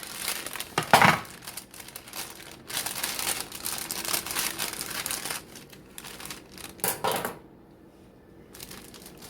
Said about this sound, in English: now open the bag of cake mix